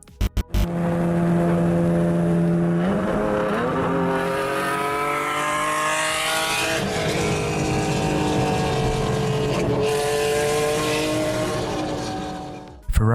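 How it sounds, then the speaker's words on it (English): Ferrari Enzo supercar engine from 2002 revving loud and close, with rising and falling harmonic sweeps through several gear changes, heard alone without talk. "in 2002 they brought us the Ferrari Enzo, named after the founder himself"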